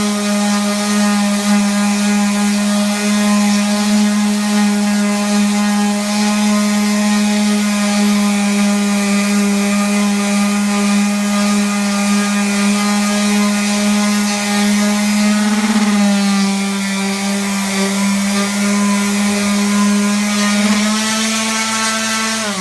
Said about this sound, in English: We actually switched to the orbital, and we're using a 220 sandpaper in order to really buff the wall out.